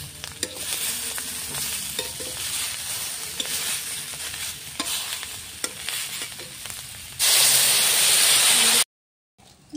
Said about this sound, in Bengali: দেখো, পাঁচফোড়ন দেওয়া হলো গরম তেলে